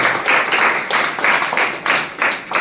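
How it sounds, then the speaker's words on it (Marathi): An audience at a Marathi event honouring women claps to welcome someone speaker, the applause pulsing in even, rhythmic bursts as hands strike together in unison, close and fairly loud. "प्रज्ञाताईंचं आपण टाळ्या वाजवून स्वागत करू"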